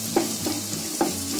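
Green chilies, four or five curry leaves and seven or eight finely chopped garlic cloves sizzle in a pan, a steady close hiss broken by two soft stirring knocks.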